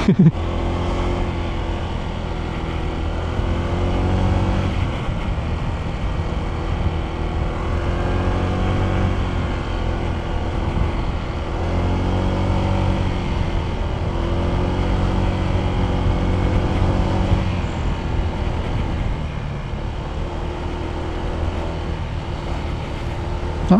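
A Honda ADV 160 scooter engine drones continuously under strain climbing uphill, its pitch rising and falling as it labors, loud and close throughout.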